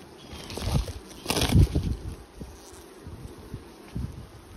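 Honeybees buzz around an open hive in an apiary, a soft, continuous hum broken by close bumps and rustling from handling of the hive boxes.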